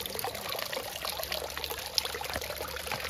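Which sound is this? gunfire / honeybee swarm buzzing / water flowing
water flowing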